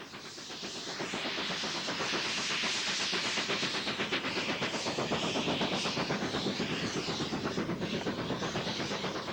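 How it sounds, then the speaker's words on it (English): A South African Class 25NC steam locomotive, number 3472, makes a run past in bright sunshine, sending out a loud, steady blast of steam hiss with rapid rhythmic chuffing and clattering wheels that holds close for the whole pass. "the final run past took place in glorious sunshine behind a superb locomotive"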